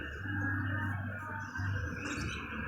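Pet pigeons in a home loft, faint soft cooing and small chirps over a steady low background hum, with no talking.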